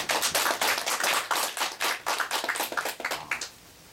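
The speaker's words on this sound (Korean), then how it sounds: "뜨거운 박수 한번 부탁드립니다" A seminar audience at a Korean church theology event claps for several seconds, a dense patter of hands close to the microphone that fades out at the end.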